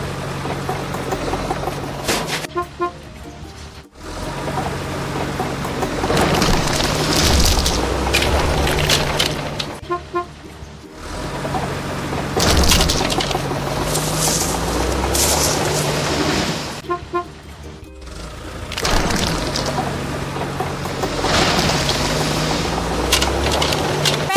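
Cartoon construction vehicles knock down dilapidated buildings in a kids' video game, with repeated booms and cracking crashes over a running engine hum and game music, broken by short silent gaps.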